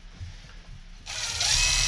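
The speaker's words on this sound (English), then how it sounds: "So this is a fine thread screw going in." A fine-thread screw being driven into a Stihl HS81T hedge trimmer during a service, a brief ratcheting click giving way to a loud, steady whirring drive close by.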